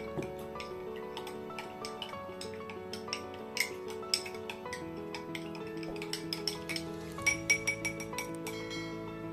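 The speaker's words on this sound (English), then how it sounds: "I just stir it" Spoon stirring a home remedy drink for cold and flu, giving a faint, steady run of small clinks and taps against the cup, with a few sharper knocks, heard alone without talk.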